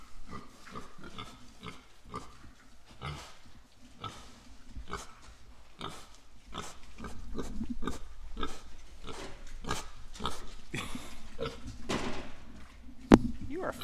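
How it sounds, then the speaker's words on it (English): Pigs on a farm grunt and snort in a steady stream of short, close bursts, with rustling and movement around them and a sharper knock near the end. "thought I'd show you the happy pigs here."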